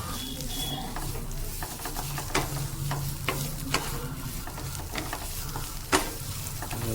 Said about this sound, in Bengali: এর মধ্যে অল্প মশলা মেশানো হলো, জিরের গুঁড়ো, ধনের গুঁড়ো মিক্সড করা, ওটা দিয়ে আরেকটু নেড়ে নেওয়া হলো।